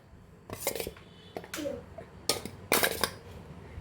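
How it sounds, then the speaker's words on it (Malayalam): Grated coconut is spooned into a mixer grinder jar, making a few brief scraping clatters of spoon against the jar, spaced apart and close by, with quiet pauses between them. "മിക്സിയുടെ ജാറിലേക്ക് തേങ്ങ ചേർത്ത് കൊടുക്കാം."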